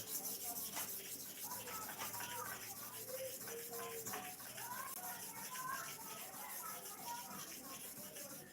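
A clipper blade rubs to and fro over a sharpening stone at a 45-degree angle, a soft, steady scraping with repeated gritty strokes, fairly quiet and close.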